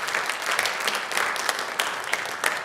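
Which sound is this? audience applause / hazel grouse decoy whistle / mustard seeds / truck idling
audience applause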